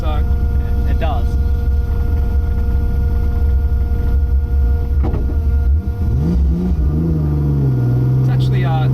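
A 1000hp widebody R33 Skyline GT-R with an RB engine, RB30 bottom end and sequential gearbox rumbles loudly from inside the cabin, with a pump buzzing behind, a steady drone rising in pitch near the end and someone talking over it.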